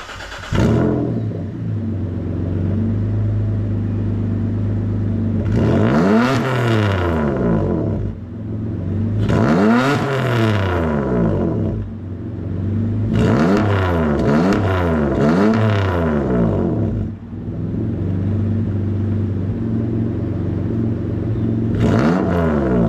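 A Dodge Stealth (3000GT) sports car with stock exhaust idles with a deep, loud rumble, then revs up sharply several times, each rev rising and falling back, close by.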